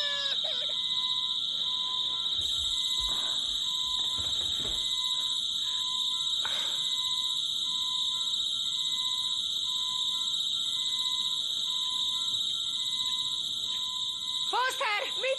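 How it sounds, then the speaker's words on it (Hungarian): A home security alarm blares in a steady, loud, piercing electronic tone that runs continuously throughout, with brief voices and clatter underneath at the start and end in a horror film scene. "Beindult a riasztó."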